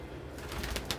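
Birds at a feed dish, with soft pigeon-like cooing and some shuffling amid steady background noise, heard close over about a second.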